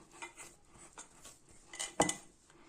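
A bowl is oiled and dough for katanimki is set into it, giving faint scrapes and light clinks of kitchenware, with one sharper clatter near the end.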